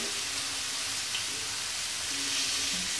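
Tuna steaks brushed with oil and marinade sizzle on a grill for a Malagasy recipe, giving a steady, close frying hiss that runs unbroken from start to finish with no voices.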